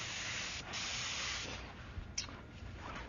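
Airbrush spraying paint, giving a continuous soft hiss close by that runs throughout with slight variations and a faint click near the middle, with no voices.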